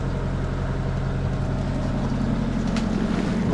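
A 1936 wooden motorboat cruising toward Northeast Harbor, Maine, its engine a steady low drone with wind and water rush, constant and close throughout.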